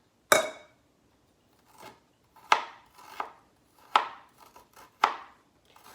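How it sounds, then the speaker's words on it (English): A kitchen knife slicing through fresh ginger root on a cutting board, four or five crisp, sharp chops spaced about a second apart, close and clear with no talking. "then I'm gonna take a knife, all right, and I'm gonna slice it."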